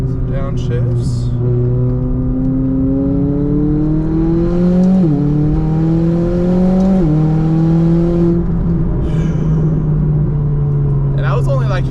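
Inside a McLaren 570 on a winding road near a hairpin, the engine hums steadily, then steps down twice in quick blipped downshifts before holding a lower, even drone, loud and close throughout.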